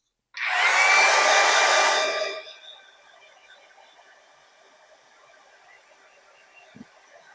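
A hair dryer blows on a craft piece in a loud, close burst of whooshing air that lasts about two seconds, then cuts off. A faint whine trails away into near silence, and nobody speaks.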